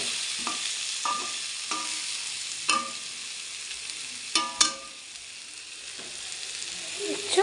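Spices with turmeric and salt sautéing in a pan, a steady sizzle and frying hiss punctuated by several sharp scraping stirs of a utensil against the pan.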